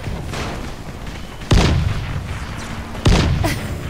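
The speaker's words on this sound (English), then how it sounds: "Watch the beautiful fireworks that just don't go up into the sky." Fireworks burst in the video game Dying Light: two loud booming blasts about a second and a half apart, each ringing out with a rumbling tail over steady crackling background noise.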